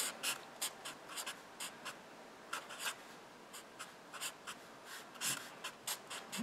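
Pen or marker writing out a calculus step by hand, heard alone as a quiet run of short scratchy strokes with brief pauses between them.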